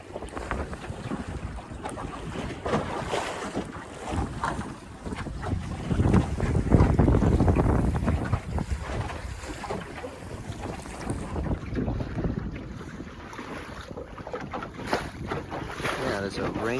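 Gusty wind roars across the microphone on a small Scamp sailboat, rising and falling with water rushing below and a voice talking over it.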